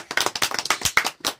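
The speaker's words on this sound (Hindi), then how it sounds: "ताली बजाओ।" A small group claps for a child in a cheerful Hindi-speaking setting, a quick run of sharp, close handclaps about 1.4 seconds long with uneven rhythm and no talking.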